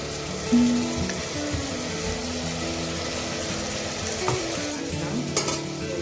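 Ground masala paste sizzling and frying with softened tomatoes in a pan over medium heat, a steady close crackle with occasional stirring scrapes and no voices.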